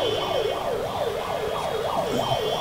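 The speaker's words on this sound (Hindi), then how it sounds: "और देखे जहाँ पर एम्बुलेंस भी है" Ambulance siren wailing in rising and falling cycles amid a traffic jam in Ludhiana, Punjab, with steady road and engine noise underneath and no speech.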